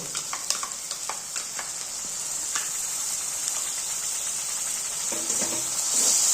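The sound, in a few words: potatoes frying and being stirred with curd in a pan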